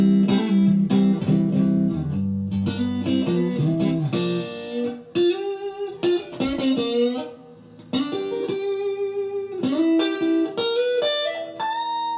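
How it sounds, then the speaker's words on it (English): An electric guitar plays chords and single notes, each ringing out with a lingering reverb tail, loud and close with no talking. "Oh, there's some reverb."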